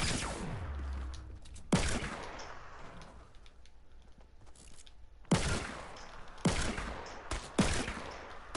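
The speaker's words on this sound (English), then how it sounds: "There's gunshots" Several bursts of gunfire crack out in clusters, separated by quieter stretches of low background rumble; the shots sound close and sharp, like rapid bursts from a game.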